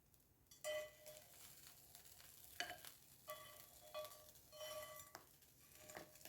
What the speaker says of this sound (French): Vous entendez le grésillement?